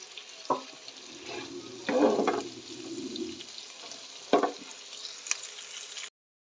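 Chicken and spices sizzle and get stirred in a pan for a shalgam (turnip) chicken curry, a steady frying hiss with a few louder scraping bursts of the spoon, close and without talk.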